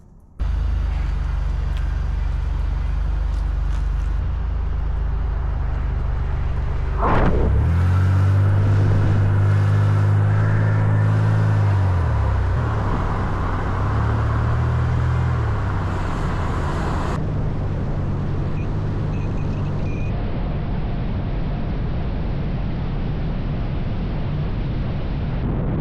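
A car cruises along the interstate in fog with a constant, loud road and engine rumble, a heavier low surge briefly swelling partway through, and steady tire and wind noise throughout.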